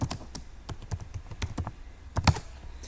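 Dates being typed on a computer keyboard: close, irregular key clicks in quick bursts with a few heavier strokes, with no talk.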